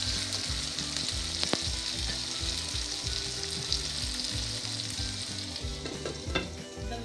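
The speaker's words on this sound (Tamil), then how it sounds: "வதங்கிட்டு நான் இதோட வெட்டி வச்ச தக்காளி பழத்தையும் போடுறேன், போட்டு சில்லி போட்டு மூடி வைக்க போறேன் வதங்குறதுக்கு." Onions sautéing with chopped tomatoes and chilli in a pan for a Sri Lankan prawn curry, giving a steady close sizzle with soft low rhythmic stirring scrapes throughout and a few sharper clicks.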